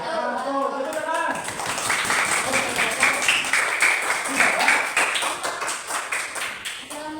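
Audience clapping after a presentation in a classroom setting, a steady patter of many hands that runs through the whole stretch, with voices talking over it.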